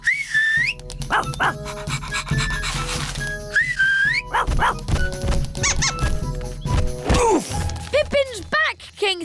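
Cartoon hamster giving repeated high, rising squeaks as it is chased and caught, mixed with bright whistle-like chirps, thumps and busy background music, with a short voice at one point.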